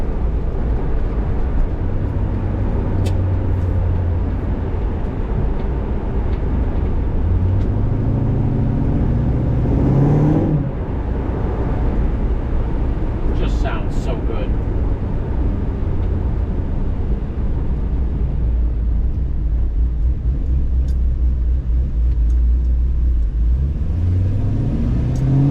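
Chevelle car engine droning loudly from inside while driving on back roads, a steady low rumble that rises and falls with gear changes and acceleration, with no talk.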